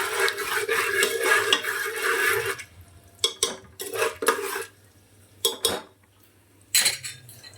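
Popcorn kernels stirred in a pot, a sizzling rattle at first, then several separate metallic scrapes and clinks of a spoon against the pot with quiet gaps between.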